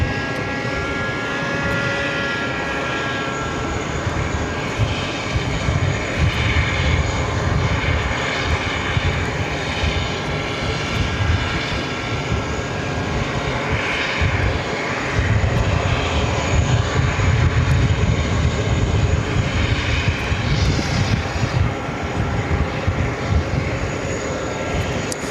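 An airliner's jet engines roar at a JFK runway, a loud sustained rumble with a whining upper layer that swells and ebbs slightly across the stretch, with no voices present.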